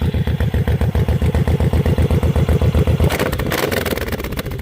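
Exhaust note of a 2025 Suzuki M109R Boulevard V-twin fitted with a JODO dump pipe exhaust, a loud, steady, lumpy idle pulsing close up, then shifting to a rougher, smoother-blended rumble near the end.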